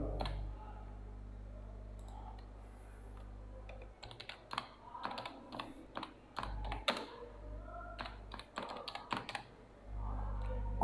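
Computer keyboard typing while a web page is written for a college computer class, irregular bursts of close key clicks with pauses, loudest in the middle stretch, over a steady low room hum.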